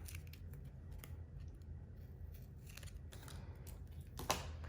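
Scissors trimming paper for a handmade pop-up card: a quiet series of short, crisp snips and paper rustles, close up, with no talking.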